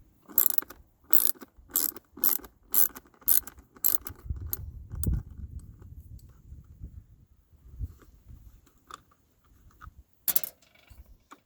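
Removing a 6.5mm bolt from the light holder of a 1988-2002 Chevy C/K pickup gives a quick run of sharp, evenly spaced ratchet clicks, then some handling clatter and a couple of faint clicks near the end.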